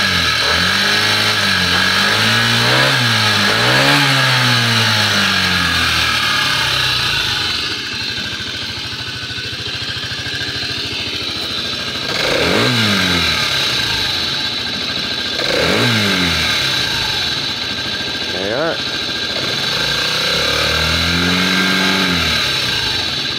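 A 2002 Aprilia scooter with a carbureted engine idles loudly and close, then blips its throttle in several sharp revs that rise and fall back to a steady idle. No voices are heard.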